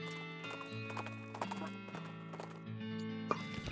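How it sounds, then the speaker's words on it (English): A horse gallops with clip-clopping hooves in the video game West of Loathing, a quick rhythmic patter set over steady background music. "Let's gallop away."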